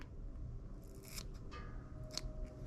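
Scissors snip through bucktail hair tied on a fishing jig, a few quiet close-up crisp cuts spread over a couple of seconds against a low background hum.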